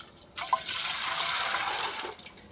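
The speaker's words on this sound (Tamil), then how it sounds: "எதில் அந்த தண்ணி தூக்கி தவளையில் ஊற்று." Water is poured into a cooking pot in a home kitchen, a brief steady splashing pour that starts abruptly, runs close and fairly loud, then trails off.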